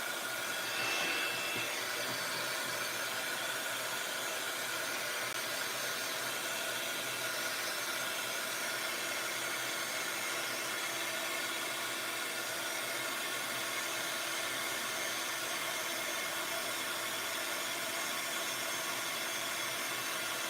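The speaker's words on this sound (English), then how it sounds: "just using the heat gun a second" A heat gun blows hot air for cardmaking embossing, a steady continuous whooshing hiss that runs for the whole stretch without pause and with no voices.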